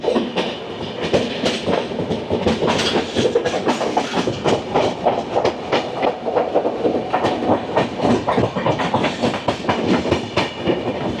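The Kandari Express rolls along the rails from Howrah to Digha with a loud, steady rhythmic clatter of wheels over track joints, close and continuous throughout.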